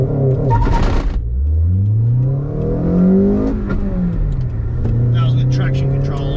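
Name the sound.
Honda Accord CL9 car accelerating on launch control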